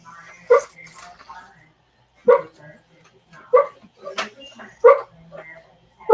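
A dog nearby barks in short, sharp bursts at irregular intervals, with softer whimpers and yips filling the gaps between barks.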